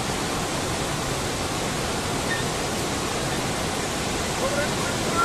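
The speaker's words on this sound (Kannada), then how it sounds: "ನೋಡಿ ಮುಂದೆ ನೀರು ಹರಿತಾ ಇದೆ" Floodwater pours over the Srinivasa Sagara dam in Chikkaballapur after a night of heavy rain, a continuous roaring wash of noise that stays even from start to finish.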